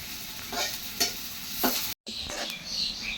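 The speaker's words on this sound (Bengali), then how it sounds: "একদম লাল লাল করে ভেজে নিতে হবে পেঁয়াজটা" Onions fry in mustard oil in a pan with a steady sizzle, broken by several close scraping stirs and one brief cut-out.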